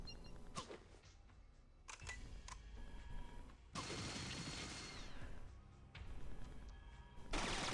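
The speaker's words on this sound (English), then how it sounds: "Apparently we can shoot through the wall here." Gunfire shooting through a wall in Fallout 2, with repeated bursts of shots separated by short gaps, the sharp reports of each volley followed by rattling noise, at a faint overall level with no talk.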